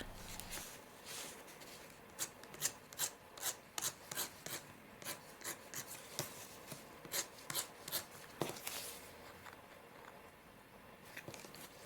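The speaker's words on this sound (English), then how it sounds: "I roughed it up a bit by cutting the surface with my craft knife" A craft knife scrapes and scores the surface of a tiny miniature craft item in quick, rhythmic faint strokes, close and quiet, with no talking.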